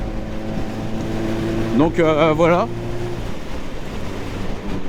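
A 1999 Suzuki GSX 1200 Café Racer motorcycle engine runs in fifth gear with a steady rumble and wind noise. A rider speaks briefly over it in the middle.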